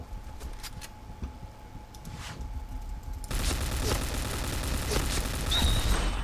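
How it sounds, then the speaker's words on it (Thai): A light machine gun in a video game fires rapidly, its sustained dense burst jumping in partway through and staying loud to the end, with faint voices earlier under game sound. "มันใช้ปืนกลเบานะครับ ดาเมจมันจะเบา แต่มันจะเบามาก ๆ แต่ข้อเสียคือมันจะยิงรัวนะครับ"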